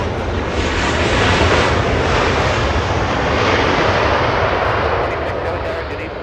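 An American Airlines Airbus A320 inbound from Phoenix to Los Angeles International roars steadily as it arrives, a loud continuous broadband engine rumble that holds for several seconds.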